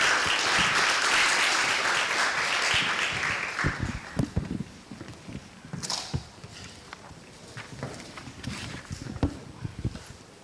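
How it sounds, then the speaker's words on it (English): Audience applause for a speaker at the 12th Tanzania Health Summit UNFPA Health Forum: dense, loud clapping from a large crowd for about four seconds, then thinning into scattered claps and shuffling. "Let's give him another round of applause."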